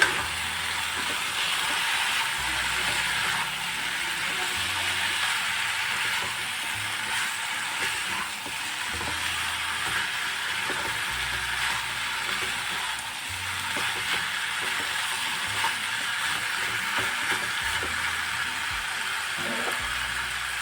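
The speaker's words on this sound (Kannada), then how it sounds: "ಸ್ವಲ್ಪ ಮೀಡಿಯಮ್ ಫ್ಲೇಮಲ್ಲಿ ಇಟ್ಕೊಂಡು ಚೆನ್ನಾಗಿ ಫ್ರೈ ಮಾಡ್ಕೊಳ್ಳಿ" Pepper chicken fries in a pan over a medium flame, giving a steady, close sizzle and hiss that runs without a break from start to finish. No one speaks.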